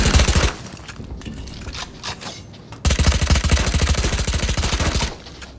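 Automatic gunfire in a multiplayer video game, a loud burst of rapid shots, a lull with scattered distant shots, then a long sustained volley that stops abruptly.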